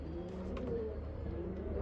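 A female pigeon held in the hand while being shown for sale coos softly and steadily close by, a low continuous rumbling coo with faint background noise.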